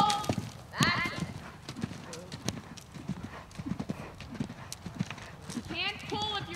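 A ridden horse moves around an arena at a farm, hooves clip-clopping in an uneven rhythm with an occasional whinny, while a riding instructor talks over it.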